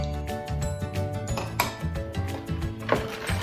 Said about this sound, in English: you're gonna mix it nicely so all the ingredients will incorporate with each other